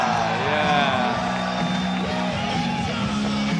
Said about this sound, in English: That was the first time I've heard the crowd go properly nuts.